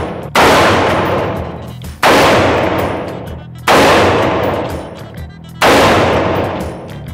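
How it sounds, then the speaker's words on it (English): Rifle shots at an indoor NRA shooting range, four loud sharp reports spaced roughly two seconds apart, each followed by a long ringing echo, with no talk. "Honestly, for your first time shooting a rifle, which they can be a little more intimidating than a handgun"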